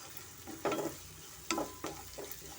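Green chili and ginger fry in a pan for vegetable shavige bath, a steady soft sizzle broken by three or four louder scraping stirs of a spoon against the pan, close by with no talking.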